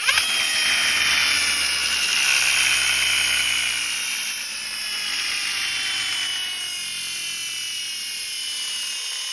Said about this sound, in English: it has this giant wheel spinning with the ripcord